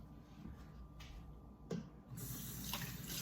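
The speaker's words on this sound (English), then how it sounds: "And then you're going to take 2 tablespoons of water." Room-temperature tap water runs from a kitchen faucet, a quiet steady hiss with a few small clinks and splashes, heard up close with no talking.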